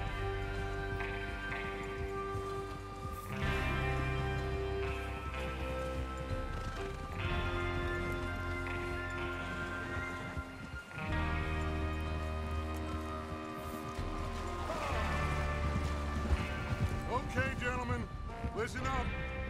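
Horse hooves clip-clop and gallop amid a rich orchestral score in the video game Red Dead Redemption 2, with occasional neighs and voices talking over the steady rhythmic pounding.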